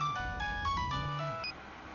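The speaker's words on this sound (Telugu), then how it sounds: "ఏండి అతను ఫోన్ రింగ్ అవుతుంది." A mobile phone ringtone plays as a repeating electronic melody of bright tones, fairly loud and steady, then cuts off near the end.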